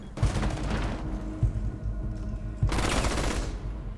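Rapid video game gunfire sounds in three dense automatic bursts separated by short pauses, loud and close with booming low thuds at the onset of each burst.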